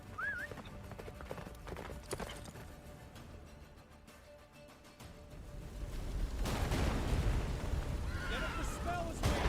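A horse gallops with clip-clop hooves in the video game Witcher 3, with a whinny amid game music and effects, and a voice talks over it.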